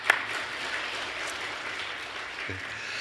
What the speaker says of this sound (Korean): 다시 한번 하나님께 큰 박수 올려드리겠습니다